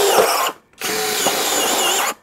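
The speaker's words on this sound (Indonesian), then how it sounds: "Variable speed 2, saya modenya mode drilling." A DongCheng DCJZ2040i13 brushless cordless impact drill, set to drilling mode at speed 2, bores through two stacked layers of light steel framing: a loud, close whirring burst, a short pause, then a longer steady run.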